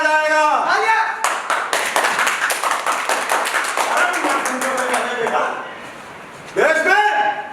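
Audience clapping at a stage play, a burst of quick, loud claps that fades out, with a voice speaking before it and again after.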